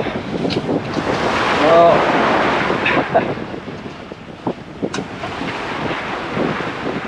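Wind and steep waves while sailing off North Queensland in a La Niña summer, with the wind on the beam; a steady broad rush of wind noise and surf runs throughout, with a brief voice near the start.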